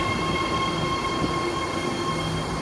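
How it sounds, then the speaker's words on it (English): A BART Blue Line train to Dublin-Pleasanton, one of the new Fleet of the Future cars, runs at Oakland Coliseum station with a loud, steady rail rumble and high whining tones held throughout, no voices. "This is the blue line train to Dublin-Pleasanton."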